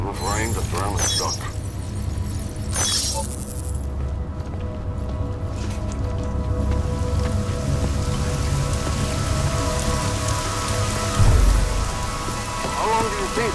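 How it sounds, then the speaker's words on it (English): Heavy rain pours in the Deus Ex: Mankind Divided video game, a steady dense hiss of drops on surfaces with occasional low rumbles and game sounds beneath. "Enough rain to drown a duck."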